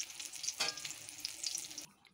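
Fried food sizzling in a pan, a crackling sizzle with a stirring scrape partway through, fairly quiet and close, cutting off near the end.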